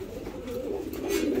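Soft, low cooing of racing pigeons, a steady murmuring call that continues throughout at close range with no talking.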